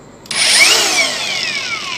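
A cordless brushless Ingco CAGLI21104 angle grinder switches on at its third speed and spins up at once into a loud, high-pitched whine that then slowly drops in pitch, close by with no voices.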